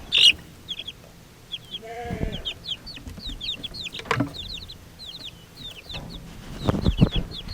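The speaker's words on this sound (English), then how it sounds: "So we have 5 chicks in there, and now we also have a broody hen." Chicks peep in rapid high chirps inside a backyard coop while a broody hen gives low clucks and a couple of louder grumbles, close and clear, with no talking.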